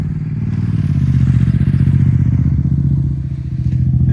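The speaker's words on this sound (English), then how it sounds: "here's one for the motorbike enthusiasts." A motorbike passes on a Lake District mountain road, its steady low engine drone loud and close throughout, with a rumbling, slightly clattering texture that swells slightly toward the middle and eases near the end.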